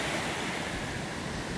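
Water rushing in the middle fork of Rattlesnake Creek in the Trinity Alps wilderness, a loud steady broadband roar filling the whole stretch with no talk.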